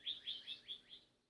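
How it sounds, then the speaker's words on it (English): A bird chirps five quick high notes in an even rhythm, faint and somewhat distant over quiet background, with no talking. "I'm just sitting here listening to the birds chirp"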